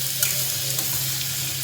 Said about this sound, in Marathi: वांग्याची भाजी, वांगे बटाटे, लसण चटणी, फोडणी मारली छान.